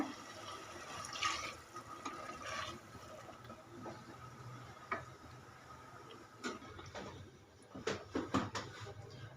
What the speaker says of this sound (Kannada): ನಾನಿವಾಗ ಮೂರು ಲೋಟ ಅಕ್ಕಿಗೆ ನೀರು ಹಾಕ್ತಾಯಿದ್ದೀನಿ